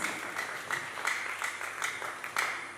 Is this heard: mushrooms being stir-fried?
no